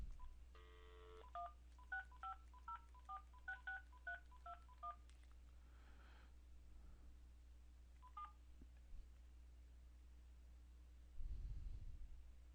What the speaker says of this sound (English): So I'm going to dial into the 650-466-3217 number now.